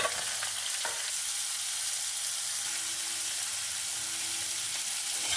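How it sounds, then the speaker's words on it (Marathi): Chopped onion fries in a pan for a South Indian-style potato bhaji, a steady, loud close sizzle with a faint stirring knock near the start, with no talking. "आता कांदा घालते।"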